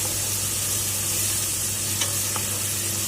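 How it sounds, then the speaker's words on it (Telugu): Tomatoes fry in a pan with turmeric for a taro and tomato curry, giving a loud, continuous, close sizzle with light stirring scrapes and no talking. "ఇలా ఫ్రై అయిన తర్వాత టమాటాలు వేసుకొని ఫ్రై చేసుకోవాలి."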